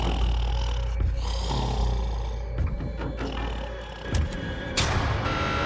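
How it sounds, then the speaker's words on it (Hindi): A man snoring in a jail cell, deep rumbling breaths drawn out continuously over a loud, dense background, close and heavy. "वो स्टूपिड कॉप सारी रात खर्राटे मारता रहा"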